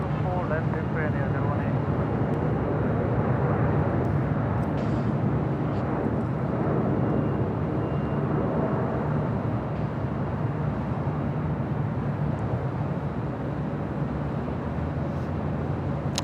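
A Korean Air airliner rolls for takeoff on runway 24 left at Los Angeles International Airport, a steady broad engine roar that stays loud throughout, with radio voices over it.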